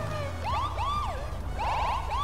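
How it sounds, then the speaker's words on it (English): Police sirens in the FiveM video game wail in rising and falling sweeps, with a glitchy, stuttering pattern, sounding loud and close over a steady low engine rumble, with no talk. "Slight bug with the sirens."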